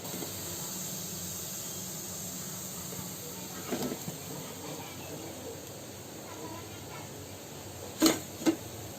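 Medu vada lentil fritters fry in hot oil with a steady, even hiss and sizzle, broken near the end by two brief clinks.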